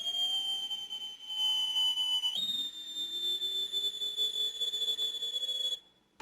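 A navy warship's general quarters alarm plays as a sustained, piercing electronic whistle tone with a lower wavering undertone, stepping up in pitch partway through and cutting off near the end.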